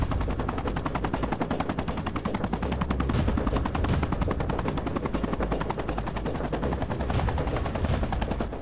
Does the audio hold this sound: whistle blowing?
no